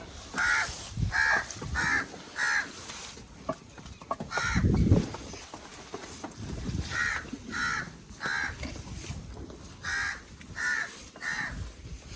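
A crow caws in repeated bursts of three or four harsh calls, moderately near on a farm, with a deeper thud and rustle in between and no speech.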